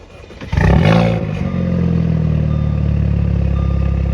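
A Cadillac CTS turbo with 170K miles and a catless downpipe, stock exhaust otherwise, cranks and fires up with a loud rough burst, then settles into a steady, throaty idle close by.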